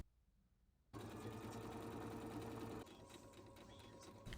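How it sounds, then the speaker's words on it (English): Sewing machine stitching a shirt collar by machine, a steady dense whirring run that starts abruptly after a quiet moment and continues close and loud, easing slightly toward the end. "Then I sew the collar to the shirt by machine first"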